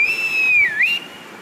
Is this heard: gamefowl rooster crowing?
no